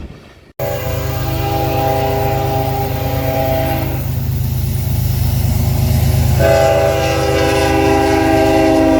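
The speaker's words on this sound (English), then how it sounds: "Next train is a loaded grain train." A loaded grain train rolls past loud and close, its steady rumble and wheel noise continuous throughout, while a long sustained horn blast sounds over it near the start and again toward the end.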